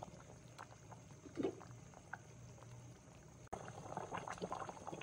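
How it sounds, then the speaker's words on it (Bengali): Beef boils in a pot with a faint, steady simmer, soft bubbling and light patter. The sound is quiet and close, gets a little busier in the second half, and has no talking. "মাংস সিদ্ধ হচ্ছে, হয়তো আরো 20 মিনিট সময় লাগতে পারে।"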